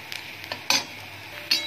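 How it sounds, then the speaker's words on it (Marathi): Finely chopped onion frying in oil for dal tadka, a soft continuous sizzle broken by a few sharp scrapes of a spoon against the pan, close and fairly quiet. "कांदा असा गुलाबी रंगापर्यंत आपल्याला शिजवून घ्यायचा आहे तेलामध्ये"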